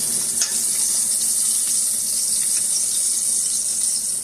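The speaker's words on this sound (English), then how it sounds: "So we'll let that fry up real nicely." A breaded pork chop frying in a pan of hot oil, giving a steady, loud, bright sizzle that continues unbroken, with a few faint crackles and pops.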